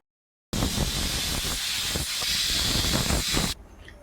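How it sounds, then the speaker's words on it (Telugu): A pressure cooker cooking chana dal and gongura curry vents steam in one loud, continuous hiss lasting about three seconds before cutting off abruptly into near silence. "రెండు రెండు విజిల్లు అయితే అయిపోయాయి కదా గాలి కూడా పోయింది చూడండి"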